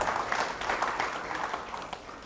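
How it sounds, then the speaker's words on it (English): Audience applause at a K9s For Warriors graduation ceremony, a steady wash of clapping hands filling the room for a couple of seconds with faint voices mixed in. "Give them a round of applause."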